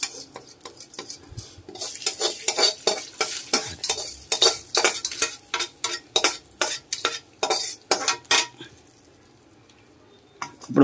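Chana dal and onions in a pan being stirred, a brisk run of rhythmic metal scrapes and clacks from a ladle against the vessel with a soft fry underneath, close and unaccompanied, then a quiet pause.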